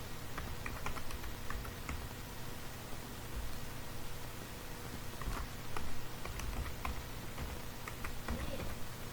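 Steady, close computer keyboard typing as an address is entered, soft key clicks running continuously over a low background hiss.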